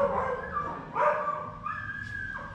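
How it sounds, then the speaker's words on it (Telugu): Dogs bark and whine nearby, several short tonal yelps and drawn-out whimpers spaced across a couple of seconds at moderate loudness, with no talking. "ఓకే, అక్కడ డాగ్స్ ఉన్నాయి."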